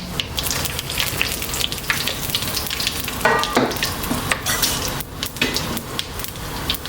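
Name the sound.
whole spices frying in oil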